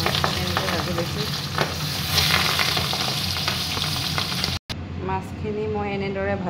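Fish frying in oil for a pabho fish dish, a loud, dense, close sizzle with stirring scrapes throughout, and a brief dropout before the frying carries on.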